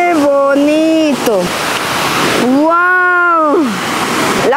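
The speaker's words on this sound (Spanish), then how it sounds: "la cascada ha aumentado, o sea, está con más fuerza" The El Chorro de Girón waterfall, swollen with winter flow, gives a steady broadband roar that runs underneath loud, excited talking close to the listener.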